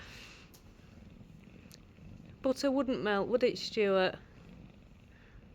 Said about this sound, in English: He's purring.